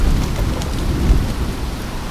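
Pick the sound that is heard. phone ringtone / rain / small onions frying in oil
rain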